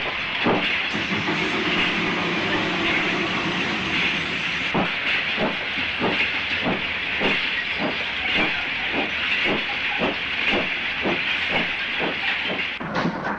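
An LMS Black 5 steam locomotive, 45040, hisses loudly while its exhaust chuffs start slow and evenly quicken as it pulls away, close and strong.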